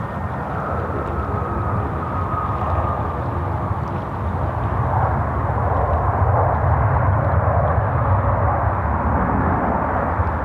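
A Jetstar Airbus A321neo passes at Sydney Airport with a broad jet roar that swells gradually and stays steady, heard from a distance.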